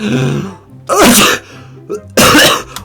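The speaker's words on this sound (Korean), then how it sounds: "아아 기침을 나네" A person coughs or sneezes twice, close and loud, in a chilly morning scene from a Minecraft role-play, with quiet room tone between the bursts.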